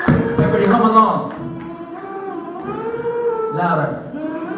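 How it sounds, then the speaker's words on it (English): An audience hums along with a performer at a Western Art Week show, with sustained, wavering tones from many voices blending into a steady drone at fairly close range. "Everybody hum along."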